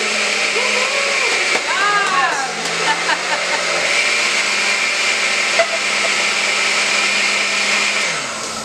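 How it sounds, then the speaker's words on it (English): A blender blending hot cauliflower soup runs loudly and steadily for several seconds, its motor whirring with a rising and settling pitch before winding down at the end. "start your blender first, pour the hot liquid in."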